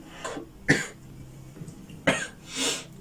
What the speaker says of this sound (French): Après cette petite pause pour tousser